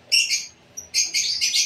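Birds in an aviary chirp loudly and close, with bright, rapid bursts of twittering in two clusters separated by a brief near-silent gap; no voices.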